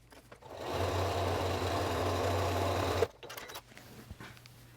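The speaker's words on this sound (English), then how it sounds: "I'm just going to lay that like this and sew along this edge." Sewing machine stitching a seam along strips of scrap fabric for a string quilt, a steady close motor whir lasting about three seconds before stopping, followed by faint handling noises.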